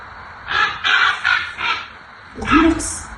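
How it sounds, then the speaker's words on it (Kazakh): Recorded call of a crow played back: a run of four harsh caws followed by a louder, rougher squawk, close and clear with no other sound behind it. "Қарға."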